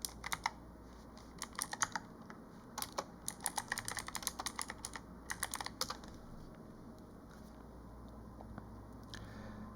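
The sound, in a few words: typing a command on a computer keyboard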